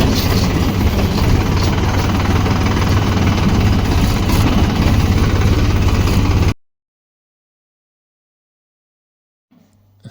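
Tractor engine running at a farm while the tractor is driven into the field, a loud, steady low rumble that cuts off abruptly partway through, followed by silence.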